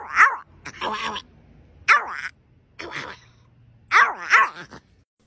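A dog barks and yips in short, loud bursts close by, with pauses between and a person's voice mixed in.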